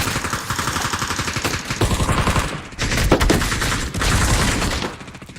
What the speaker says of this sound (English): All sorts of shots going back and forth between Team 14 and Team 15.